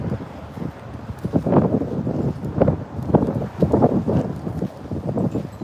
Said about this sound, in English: So the wind is just like doing the most right now.